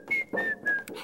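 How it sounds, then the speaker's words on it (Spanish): A mother whistles a cheerful tune in a garden, three or four clear sustained notes in quick phrases, near and fairly loud, with a soft background hum and no talking. "A mi mamá le gusta silbar en el jardín."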